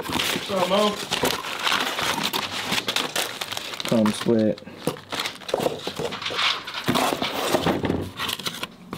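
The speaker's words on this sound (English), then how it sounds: "Let me open my box." A cardboard box of billet side cover engine parts for a 212cc Predator engine being opened by hand, with crinkling and tearing of packaging mixed with handling clatter while someone talks over it.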